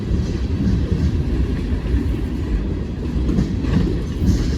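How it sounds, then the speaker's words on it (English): Loud, continuous rumble of a long freight train rolling past close by, with steady clattering of wheels on the rails. "This is a long train."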